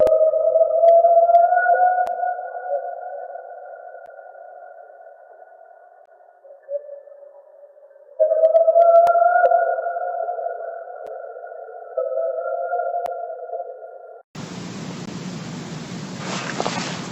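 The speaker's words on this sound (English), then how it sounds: "high-pitched whooping sounds. There are no known animals in Ohio that could produce this type of noise." High-pitched whooping calls, alleged to be from Bigfoot and recorded in Ohio, sound as long sustained tones that rise slightly and repeat after a pause, clear against near silence, before a sudden burst of broadband hiss at the end.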